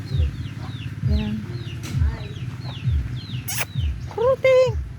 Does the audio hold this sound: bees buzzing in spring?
no